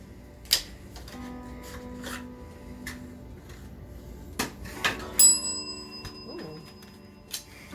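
A single bright bell chimes once during a Follow the Leader copycat card trick game. It rings sharply and close among quiet clicks and taps of cards being handled, and no one speaks.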